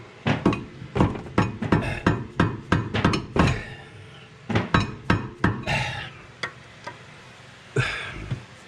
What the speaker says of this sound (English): he's using a screwdriver as a chisel